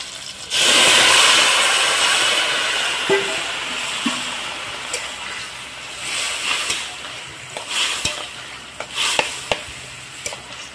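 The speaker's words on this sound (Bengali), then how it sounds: "কুমড়ো শাকটা সম্বরে দিয়ে দেবো।" Pumpkin greens hit hot tempering oil in a pan, a loud burst of sizzling and hissing that settles into steady frying, with occasional stirring clinks and scrapes near the end.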